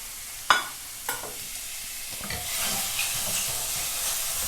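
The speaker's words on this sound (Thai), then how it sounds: "เราตั้งกระทะร้อนแล้วนะคะ แม่จะเอา หมูสามชั้นเนี่ยที่เราเตรียมไว้เนี่ยค่ะ ลงไปคั่วก่อน" Pork belly tossed into a hot wok with no oil, starting with two sharp clanks of the spatula and then swelling into a loud, continuous hissing sizzle as the meat fries.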